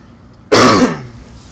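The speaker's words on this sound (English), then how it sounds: "Sorry about the cough." A single loud, close cough from a commentator casting a LAN tournament grand final, with a harsh throat-clearing quality, dying away quickly into quiet room tone.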